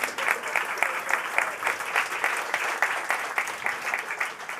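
A crowd keeps applauding panelists at a London climate week food summit, continuous dense clapping with a few louder individual claps standing out, holding steady for the whole stretch.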